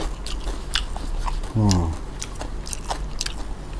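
Someone eating rice with Thai mackerel chili paste, making soft close chewing and biting sounds, with a brief low vocal hum partway through, while someone talks through much of it.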